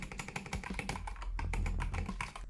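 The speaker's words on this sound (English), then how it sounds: "make your keyboard sound like this" Rapid clacky typing on a computer keyboard, dense overlapping keystrokes with a deep, thocky low end, steady and close.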